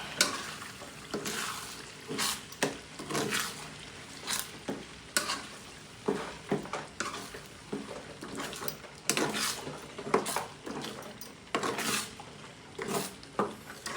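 A spoon stirs Filipino-style spaghetti sauce made with tomato sauce in a pan, giving repeated scraping, sizzling strokes in an uneven rhythm, close and moderately loud, with no talking.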